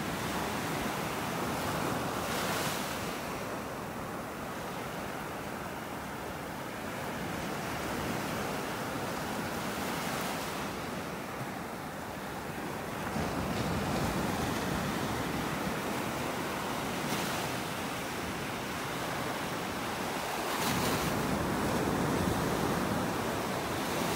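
Ocean surf washing onto a beach in North Naples, Florida on a clear, calm morning, a continuous loud roar of breaking waves that swells and eases, with some wind rush on the microphone.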